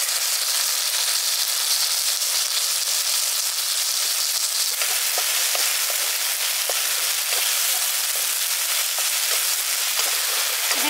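Chopped tomato and thinly sliced garlic sizzle hard in hot oil for a village-style Bengali carp curry, a loud, steady crackling hiss that runs the whole time with small pops scattered through it, no voices.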